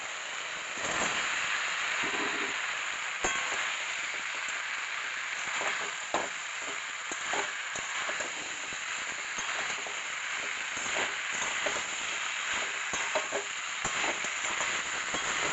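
Vegetables with turmeric and chili paste sizzle steadily in a pan for a drumstick and lentil-fritter curry, a continuous frying hiss with occasional soft stirring scrapes and clinks, close and alone.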